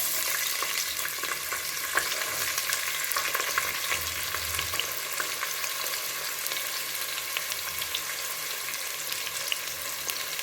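Sliced onions frying in oil with cinnamon, cloves, cardamom and star anise for Ambur-style chicken biryani, a constant crackling sizzle punctuated by brisk stirring scrapes throughout.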